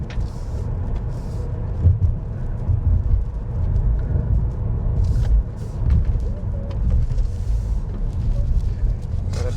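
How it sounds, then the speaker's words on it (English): Road noise inside a Smart #1 electric car driving on a concrete road: a continuous low rumble and tire drone coming through the cabin, with occasional brief higher hiss bursts from the surface. "Concrete road. I think the insulation is not as good. Some of the noise is coming through."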